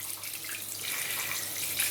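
Water runs steadily from a tap fed by an Atmor Basic 5 instant electric water heater, warmed to about 37 °C, making a continuous broadband hiss heard close and alone throughout.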